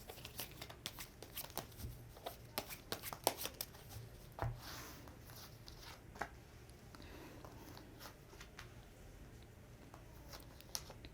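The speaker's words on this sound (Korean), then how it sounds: "카드가 튀네요." Tarot cards shuffled by hand in a quiet room, a soft, close, irregular run of riffling and snapping card sounds with no talking.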